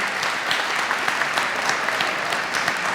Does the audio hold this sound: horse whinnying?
no